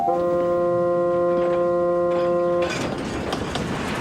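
A freight train of empty cars rumbles along the rails, a steady horn-like tone holding for a couple of seconds before giving way to broad, rushing rolling noise.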